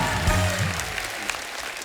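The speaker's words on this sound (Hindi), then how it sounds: "जोरदार तालियां हमारे मेहमानों के लिए।" A TV comedy show studio audience claps steadily in dense, continuous applause, with a low voice briefly audible beneath it at the start.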